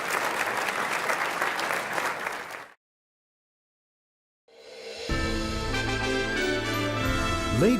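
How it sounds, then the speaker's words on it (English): A gala dinner audience at a business awards ceremony applauds, dense clapping for over two seconds that fades into nearly two seconds of silence, after which music with a steady tone enters. "How about another round of applause for Bo Young Jong?"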